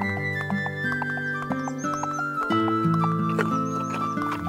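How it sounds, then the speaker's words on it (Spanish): Horses in a cartoon walk into a stable, their hooves clip-clopping in a light, steady rhythm beneath continuous bright music, with a faint whinny-like tone mixed in. "Los caballos están entrando al establo."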